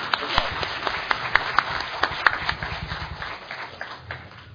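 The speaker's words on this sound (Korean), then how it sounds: "좀 양해로 박수를 좀 보내주시죠" Applause from an audience at a political forum on small-business livelihoods, uneven clapping with sharp individual claps near and many hands behind, gradually thinning out toward the end.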